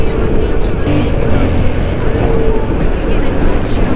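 Yamaha XSR 700 motorcycle, sharing the MT-07 engine, running with a loud, steady engine drone and wind rush throughout, with no talking.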